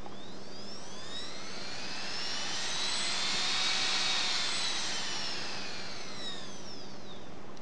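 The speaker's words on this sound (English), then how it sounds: "So I'll go to full throttle, and you'll see how it spools up nice and slowly." A CopterX BA DFC RC helicopter's electric motor spools up slowly to full throttle, a steady whine that climbs smoothly in pitch and sweeps through layered tones, with no talking.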